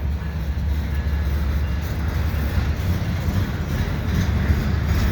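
A Canadian Pacific freight train passes at Dorval in winter twilight, a steady heavy low rumble that holds loud and unbroken throughout, with no talk over it.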